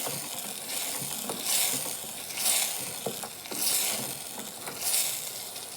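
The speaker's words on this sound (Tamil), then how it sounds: "ஒரு கொதி வரட்டும் நல்லா கொதித்து வருது பாருங்கள்" Tamarind curry with chili and salt bubbling in a pot, a soft steady hiss with faint pops and slight clinks, close and quiet, with no talking.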